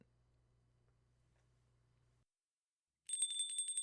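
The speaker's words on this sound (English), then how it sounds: "The chimes of the Aquilo sing their song, announcing yet another customer to the cafe" Cafe door chimes ring out with bright, rapid metallic jingling as a customer enters, sudden and fairly loud after a short quiet stretch with a faint low hum.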